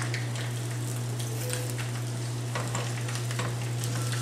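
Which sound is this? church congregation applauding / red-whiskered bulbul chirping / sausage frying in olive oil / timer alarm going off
sausage frying in olive oil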